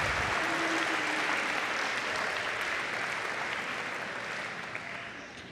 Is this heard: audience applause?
yes